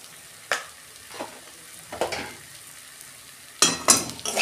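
Banana flower filling being stirred and fried in a pan with garam masala: several distinct scraping stirs at intervals over a steady soft sizzle, with a louder clattering burst of stirring near the end.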